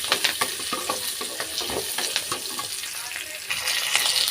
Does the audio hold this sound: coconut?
yes